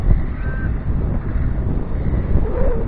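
Wind buffets around a small DJI Ryze Tello drone fitted with LDARC King Kong 65mm props as it hovers outdoors, a loud steady low rumble of gusts on the microphone throughout.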